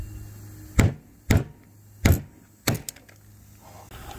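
Stone crabs being cracked with a specialized hammer at a dinner table in the Keys: four sharp, loud knocks spaced unevenly over a few seconds, with a low steady hum underneath.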